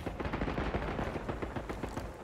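Dense, continuous gunfire and automatic bursts from a Call of Duty Black Ops 6 firefight, loud and steady throughout with rapid overlapping shots and no voices.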